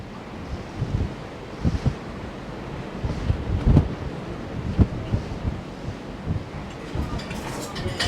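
Sea waves and wind in the Bay of Biscay, heard from the deck of the cruise ship P&O Arvia: a steady blustery wind rush with irregular swells of surf breaking below.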